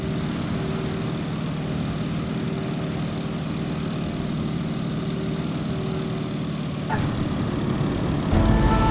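Propeller aircraft engine throttled back to idle in the Microsoft Flight game, a steady droning hum with a faint tonal whine that holds evenly, then a brief thump and a slight rise near the end.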